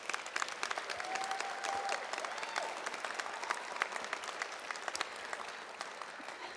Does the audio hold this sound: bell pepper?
no